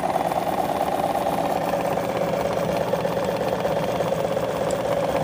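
A vintage 1958 Kenmore model 117.841 sewing machine runs steadily up close, its motor giving a smooth, even mechanical hum with a faint rhythmic clatter and no talking.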